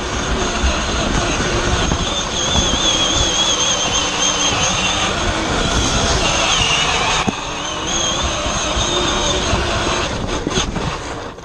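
A Jeep engine labours over rough off-road terrain of sticks and dirt, a loud, continuous roar with rumbling and rattling throughout.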